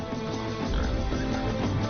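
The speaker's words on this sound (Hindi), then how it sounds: "कुमार वर्मा ने सुअर को मार गिराया हो।" Low, rough grunting of a wild boar in a hunting scene, continuous heavy snorts and rumbles through the whole short moment, loud and close with no talk.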